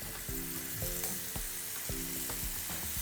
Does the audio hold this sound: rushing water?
no